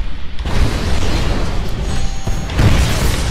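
Rocket explosions boom and rumble continuously in a Titanfall tutorial hallway, loud and close, with a few heavier bursts standing out from the dense blast noise.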